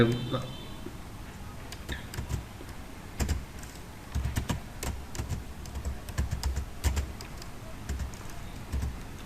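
Typing on a computer keyboard, irregular bursts of light key clicks with short pauses between them, close and quiet while a voice talks over them.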